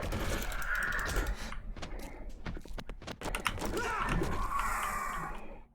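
Crows cawing in the 7 Days to Die video game, harsh raspy calls rising loudly at the start and again near the end, with scattered clicks and clatter in between.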